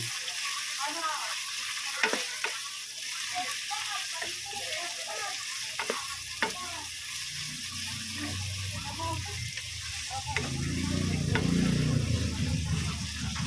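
Chicken pieces sizzle in a pan for pancit bato, with steady frying hiss and occasional scrapes and knocks of a utensil stirring, growing busier toward the end; little or no talk.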